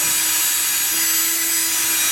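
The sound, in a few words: drill drilling a pilot hole in particle board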